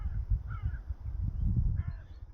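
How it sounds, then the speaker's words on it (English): Crows caw in a winter park at Holyrood Park, Edinburgh, a few faint calls carrying from a distance over a low rumbling wind or ground noise. "Those are all crows."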